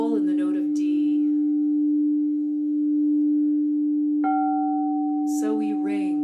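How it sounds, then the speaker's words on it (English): A crystal singing bowl tuned to D rings with a steady, pure sustained tone, joined by a second higher ringing tone partway through, with someone speaking briefly at the start and end over the hum. "One that I'm playing right now is the sacral, the bowl in the note of D."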